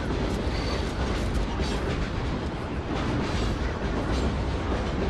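A train rumbles past in the Call of Duty Ghosts campaign, a dense, loud, continuous roar of wheels and heavy machinery with faint rhythmic clatter, filling the whole stretch without speech.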